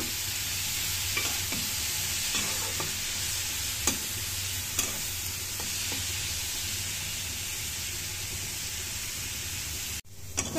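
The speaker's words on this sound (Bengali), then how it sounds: "বন সিমরা গুলো ভেজে নিতেছি, যেগুলো সিদ্ধ করে রাখছিলাম" Boiled flat beans frying in mustard oil in a pan, a steady close sizzle with occasional soft stirring scrapes, no talking.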